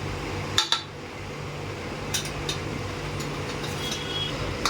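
A metal spoon clinks against a cooking pot while chili powder is added, a couple of sharp close taps followed by a few lighter scattered clinks in a quiet kitchen.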